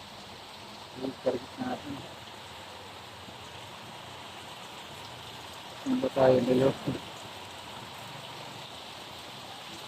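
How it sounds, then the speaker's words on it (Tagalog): Heavy rain hisses as a steady, dense wash of noise throughout a road trip stop in Atimonan, Quezon, while voices talk over it in two brief bursts. "Pinanapan tayo ng ulan. Grabe. Lakas."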